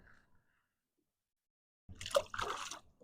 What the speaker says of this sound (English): You just had to splash me.